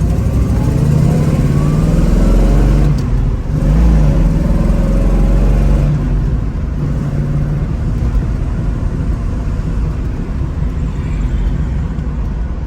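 A 1969 AMC AMX with a 390 V8 and four-speed runs steadily with a loud, close, low rumble, swelling briefly as it revs before settling back to a sustained drone with no talking.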